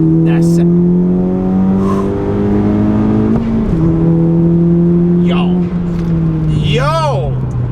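Tenth-generation Honda Civic Si with an upgraded turbo and full bolt-ons pulling hard in second gear from inside the cabin, a loud engine drone rising steadily, with a brief dip and excited voices shouting over it.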